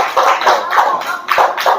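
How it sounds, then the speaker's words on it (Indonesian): A classroom group claps for a student team in a rhythmic pattern, with about six loud, close bursts in quick regular succession. "Tepuk tangan untuk kelompok 2."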